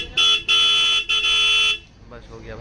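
Dual stock horn on a Royal Enfield Classic 350 motorcycle sounds three loud, close blasts, two short and one longer, then cuts off, followed by faint background noise.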